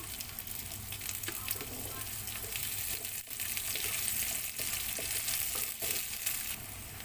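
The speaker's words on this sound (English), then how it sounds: "We have to saute our onion until it gets translucent or change into golden brown." Onions sauté in a pan for Filipino nilagang mongo with pork, giving a continuous close sizzle with occasional stirring clicks.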